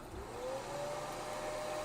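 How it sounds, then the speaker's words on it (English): A dryer blows steadily on a freshly painted tape pattern, giving a continuous whooshing hum with a faint rising whine at moderate, even loudness. "So I'm going to do a quick dry on that."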